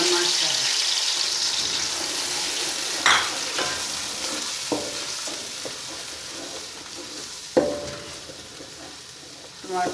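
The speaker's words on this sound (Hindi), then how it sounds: "टमाटर लहसुन प्याज की अच्छी तरह बुनाई कर लेते हैं।" A tomato, garlic and onion paste sizzles and fries in hot oil while being stirred, a steady broadband hiss with a few sharper clinks and scrapes.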